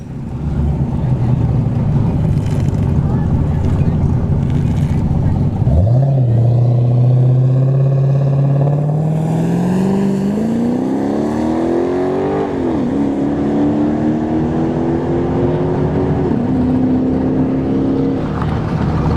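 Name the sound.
Dodge Charger drag car accelerating down the dragstrip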